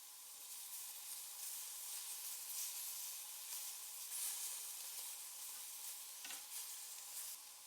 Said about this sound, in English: Place the marinated beef cubes into the pan and allow them to slightly blacken in